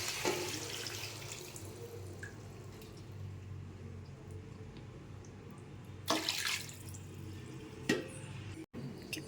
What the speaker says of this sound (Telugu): ఫిష్లో ఈ వాటర్ వేయాలి